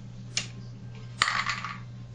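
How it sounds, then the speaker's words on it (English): Ice cubes dropping into a blender jar for a frozen cherry drink: one sharp clink, then a second louder clatter with a short rattling tumble, close up in a quiet kitchen. "you want to fill it with ice."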